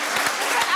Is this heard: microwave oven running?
no